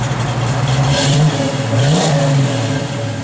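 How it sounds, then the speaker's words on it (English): Engine of a 1969 Chevrolet Camaro RS revving, two rising and falling swells of a throaty mid-pitched motor over a steady idle, loud and close, with no talking. "Give it a little rev, Jordy."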